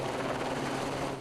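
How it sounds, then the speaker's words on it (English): A helicopter flies over a wildfire, a steady broad rotor-and-engine roar heard briefly and at moderate level, with no voices. "Helicopters worked from above"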